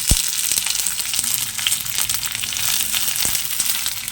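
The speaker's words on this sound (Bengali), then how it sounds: "তারপর পেঁয়াজ কুচিটা দিয়ে দিলাম।" Chopped onion hits hot fish oil in a pan and fries with a loud, steady sizzle and crackle, close up and continuous, with no voices.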